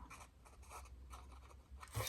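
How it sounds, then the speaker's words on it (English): Scissors snip through paper while a saying is being cut out for a bookish Cricut craft, giving soft, close, irregular crisp cuts that ends in a louder snip, with no voices. "I'm just going to use my scissors here"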